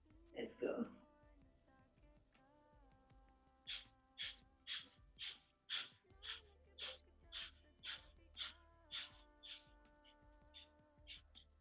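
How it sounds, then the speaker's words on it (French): Rapid rhythmic breath of fire in kundalini yoga, about sixteen sharp nasal exhalations in steady succession at close range, following a brief spoken voice at the start. "on va reprendre cette respiration du feu"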